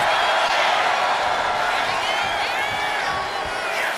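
Dense arena crowd roaring and cheering throughout a WWE 2K25 wrestling match between Peter Maivia and Steele, a loud continuous wash of voices with rising whoops and shouts.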